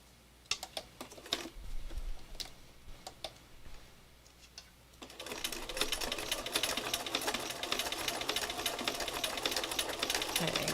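Sewing machine stitching slowly around the inside corners of a fabric design, first as sparse single ticks of the needle, then settling into a steadier, louder mechanical whir of continuous stitching, close up with no talking.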